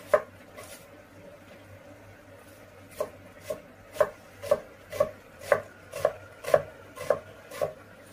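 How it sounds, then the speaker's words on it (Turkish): A knife chops dry onion for a salad on a board, a run of about ten crisp, evenly spaced cuts that follow a few scattered early strokes, close and fairly quiet, with no talking. "Kuru soğan doğruyorum."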